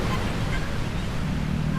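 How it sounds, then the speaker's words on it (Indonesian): Ocean waves at Cemara Jajar beach in Cilacap, a continuous broad wash of surf with wind rumble against the microphone, steady and fairly loud, with no talk over it. "ombaknya besar dan suka nyeret ke arah laut"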